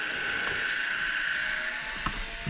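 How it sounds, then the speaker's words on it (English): Woodland Mills Grindlux 4000 blade sharpener grinding lightly on a sawmill blade tooth and gullet: a steady high-pitched grinding whine with a faint rattling texture, close and continuous for a few seconds. "you can hear it grinding just a little bit on that tooth and just a little bit in the gullet"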